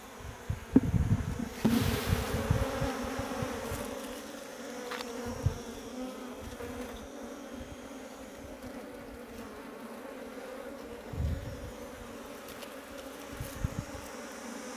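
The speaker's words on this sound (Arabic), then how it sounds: "هنا النحل كاين كثرة" Honey bees swarm and buzz at an open beehive during a varroa mite infestation, a steady close insect drone that persists throughout under light wind, with a few louder bursts as bees pass near.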